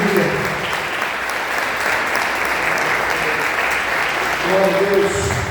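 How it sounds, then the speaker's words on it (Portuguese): Applause from a church congregation rolls on steadily for several seconds, a thick wash of clapping hands, while voices call out over it near the end. "Vamos aplaudir a Jesus bem forte."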